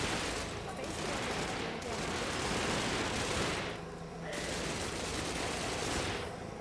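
A few soldiers shooting in the video game Cepheus Protocol, a steady, faint wash of distant rapid gunfire running continuously with slight dips.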